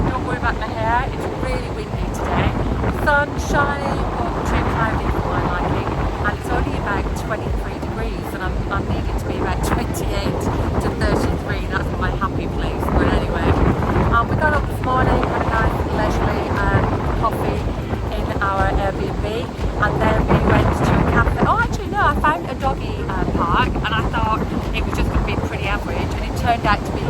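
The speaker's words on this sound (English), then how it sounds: "It's really windy today." Strong wind buffets the microphone throughout, a constant roaring rumble with gusts, while a person talks over it.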